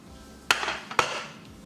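Two sharp metallic clanks sound close by as the lid of a cooled-down pressure cooker holding taro root is worked open, followed by a brief rattling ring.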